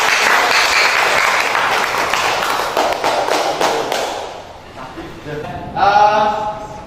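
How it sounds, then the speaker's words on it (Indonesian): Classroom applause for a student group after a presentation in an automotive engineering teaching session, a dense burst of clapping that fades over several seconds, followed by brief voices and chatter near the end. "Beri aplaus untuk kelompok 4."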